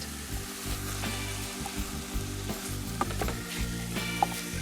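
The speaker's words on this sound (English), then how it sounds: "Need the heat up a bit for the beef because I want it to brown fast" Beef browning fast in a hot pan, a loud steady sizzle with crackling pops throughout, close up and continuous.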